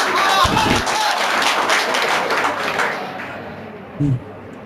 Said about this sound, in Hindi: बहुत बढ़िया, तालियां इसके लिए